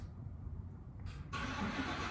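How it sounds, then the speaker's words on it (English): A neighbor's truck engine catches and settles into a running idle partway through, faint and somewhat distant in a quiet outdoor setting. "Oh, that's my neighbor's truck."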